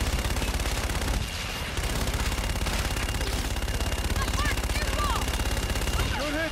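Rapid, dense automatic gunfire rattles continuously in a fire support strike in Call of Duty: Infinite Warfare, with loud repeated bursts and a brief lull, under radio chatter and whistling projectile sounds.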